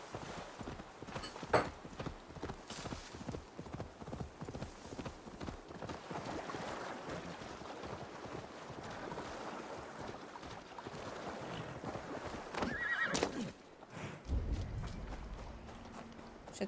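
Horse hooves clip-clop in a steady rhythm through much of Assassin's Creed Valhalla gameplay, set against wind and water ambience, with a heavier thump and rumble near the end.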